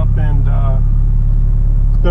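A car engine idles while warming up before a drive, a steady low rumble heard from inside the cabin, close and loud, with someone talking over it.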